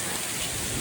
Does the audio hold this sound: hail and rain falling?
yes